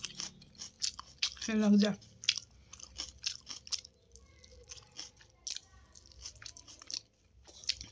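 Close, moist chewing and crunching of someone eating mutton curry alone at home, with soft bites and squishes scattered through the clip and a brief spoken remark near the end.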